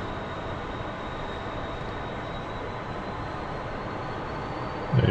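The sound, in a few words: F-14 jet taxiing onto runway in DCS World video game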